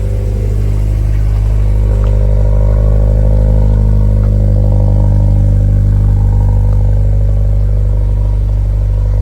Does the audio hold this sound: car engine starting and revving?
yes